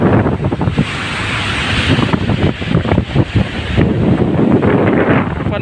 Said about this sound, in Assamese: আহি পালোঁ আমি সাগৰ পাৰ ফাইনেলি।